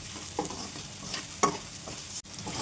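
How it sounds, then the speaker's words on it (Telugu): Okra frying in oil in a kadai gives a quiet, steady sizzle, broken by a few sharper stirring clicks and a brief pause near the end. "బెండకాయలు వేసుకొని జిగురు అంతా వెళ్ళేదాకా వేయించుకోవాలి"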